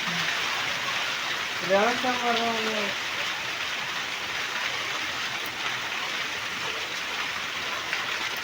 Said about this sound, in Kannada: ನೋಡಿ ವರ್ಷದ ಮೊದಲನೇ ಮಳೆ